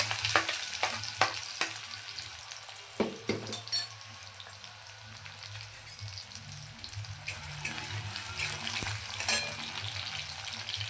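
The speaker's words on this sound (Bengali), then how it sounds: "আমি পেঁয়াজটাকে প্রথমে তেলে দেবো" Chopped onion sizzles in hot white vegetable oil in a pan, with a steady close frying hiss and occasional stirring clinks throughout.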